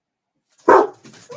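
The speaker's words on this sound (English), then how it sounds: "the dogs are barking" A dog barks once, close and loud, trailed by a softer yelp and rustling, with faint activity continuing after.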